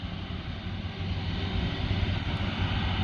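An Airbus Beluga XL, an A330-743L freighter, taxis before takeoff at Amiens airport. Its engines give a continuous low, rumbling roar at moderate distance, with no speech.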